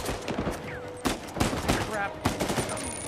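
Blind fire from cover in Uncharted 4, with repeated bursts of gunfire and sharp shot transients scattered across a few seconds amid game effects and a faint voice.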